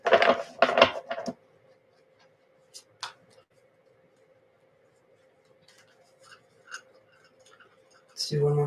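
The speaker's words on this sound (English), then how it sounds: "Let's do one more shuffle here." Tarot cards shuffled by hand during a reading: a quick rustling, riffling burst up close at the start, a few faint taps and clicks in a quiet stretch, then another short burst of handling at the end.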